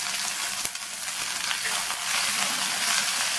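Curry leaves, mint and coriander leaves sauté in a hot pan for chutney, making a dense, continuous close-up sizzle with a few stirring scrapes.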